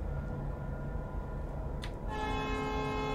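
Game train in Train Life, standing in the track ahead at night: a low rumbling rail drone, then from about two seconds a steady horn blast with sustained harmonic tones comes in and holds, loud and close.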